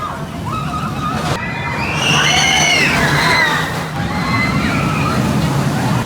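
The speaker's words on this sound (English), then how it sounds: "Pretty cool looking river rapids ride." Water sloshing and churning on an Egyptian-themed river rapids ride at Worlds of Fun amusement park, a loud continuous wash with splashy surges, overlaid by riders' screams and crowd voices.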